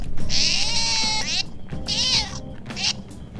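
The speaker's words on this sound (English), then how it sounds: "it makes like a meowing sound as if I stepped on its tail" Three loud, drawn-out cat meows in a row from the video game Persona 5 Royal, high and strained like a yowl, with a low electronic hum underneath.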